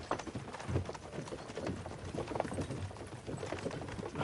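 Horses' hooves clip-clopping at a slow walking pace in Kingdom Come Deliverance 2, a steady rhythmic clatter close by under a dense background of game ambience.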